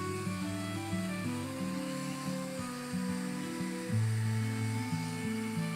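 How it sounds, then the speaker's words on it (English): An industrial-strength Dremel rotary tool whines steadily and loudly throughout, its pitch shifting as it bears down on leather for a gun holster, with no talking. "That is an industrial Dremel."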